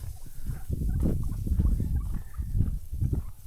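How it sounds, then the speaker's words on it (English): Many wild turkeys gobble and cluck together at once, a dense, continuous chatter of overlapping calls from a nearby flock. "Big flock of turkeys here."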